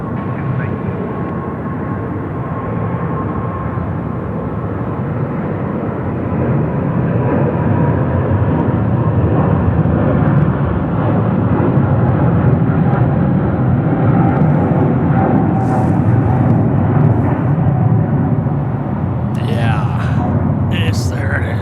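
Jet engines of an airliner on the runway at Sydney Airport at night, a loud, steady broadband roar that swells midway and holds, with brief higher bursts near the end and voices talking underneath.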